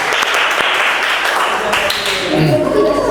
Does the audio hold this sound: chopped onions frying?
no